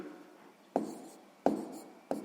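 A pen or pencil writes by hand on paper during a sixth-grade math exercise, three quiet sharp taps with soft scratching between them.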